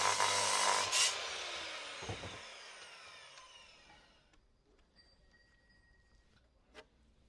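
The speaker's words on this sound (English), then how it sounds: "So a long time ago, Tara used my miter saw to build a table." A miter saw cuts through wood with a loud whining bite that quickly spins down into a fading whir, followed by a few faint clicks and a sharp tap near the end.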